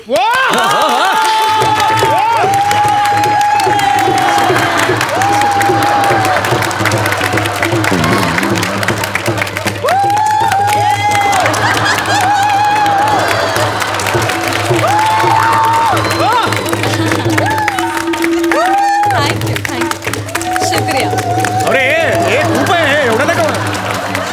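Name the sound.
comedy show audience applause and cheering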